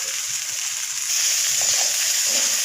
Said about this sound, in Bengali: এখন আমি চিড়াগুলো এর মধ্যে দিয়ে দিচ্ছি